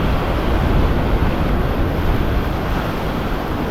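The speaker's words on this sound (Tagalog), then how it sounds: "Oops, alon, yan." Sea waves and surf roll loudly around a boat during a fishing outing, a continuous close roar of water blended with heavy wind rumble on the microphone, with no talking.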